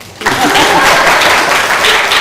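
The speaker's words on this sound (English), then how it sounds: "Claps." An audience at a valedictory address in Hyderabad breaks into loud, sustained applause that starts abruptly and continues steadily.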